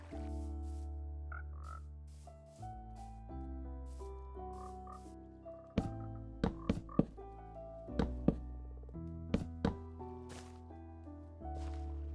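Minecraft frogs croak in a series of deep, resonant calls with sharp clicks and pops layered over a sustained musical game soundtrack, no talk.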